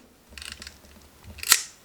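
Quick mechanical ratcheting clicks from an Olympus 35 RC rangefinder film camera's winding lever, followed by a single sharp metallic snap.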